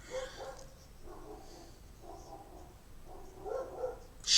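Several dogs bark at a distance in short repeated bursts, moderately faint, spaced through the stretch with a louder one at the end, over a quiet indoor background.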